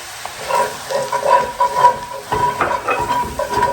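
Flour being whisked into melted butter in a hot pan, giving a close, steady sizzle with continuous rhythmic whisking strokes.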